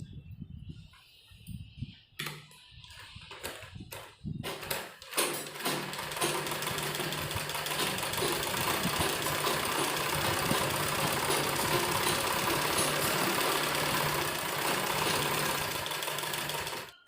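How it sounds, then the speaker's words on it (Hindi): Sewing machine stitching along the edge of a bell sleeve. A few faint clicks and handling knocks come first, then a loud, continuous whirring hum runs steadily to the end. "इस पे भी हम यहाँ किनारे किनारे पर सिलाई लगाएंगे।"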